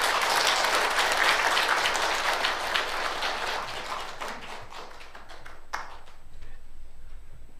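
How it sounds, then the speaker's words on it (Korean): Church congregation at an elder ordination and retirement service applauding, dense clapping loud at first and then thinning and tapering to scattered claps. "박수로 이제 격려해 주시기 바랍니다."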